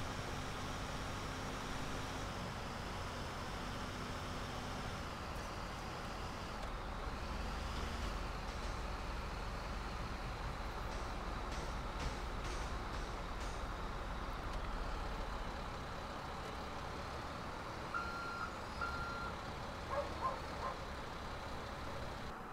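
Truck engine in a roleplay driving game, a steady low rumble droning throughout with faint beeps near the end, no talk over it.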